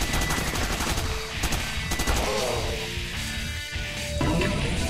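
Continuous rapid gunfire from the top-down shooter Crimsonland, dense and loud for the whole stretch, with no talking.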